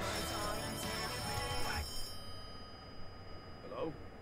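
A telephone rings with a bright trilling tone, mixed with excited talk and loud noise in the room; the ring fades after about two seconds.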